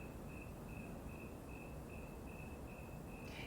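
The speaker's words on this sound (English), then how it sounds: "Those are crickets." Crickets chirping in a steady, evenly spaced pulsing trill over a constant background hiss, faint and distant, with no talking.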